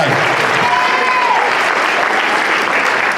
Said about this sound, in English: So everyone, let's give Davis a round of applause right now.